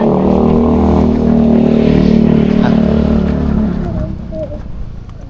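A motorcycle engine passes close and loud with a droning tone, then fades away as it moves off, with voices nearby.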